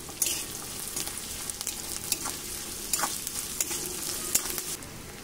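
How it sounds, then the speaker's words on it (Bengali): Onions and green chillies fry in oil in a pan, a steady close sizzle with occasional sharper crackles and spatula scrapes as they are stirred. "পেঁয়াজ আর কাঁচা লঙ্কা একটু ভালো করে ভাজা ভাজা করে নেব।"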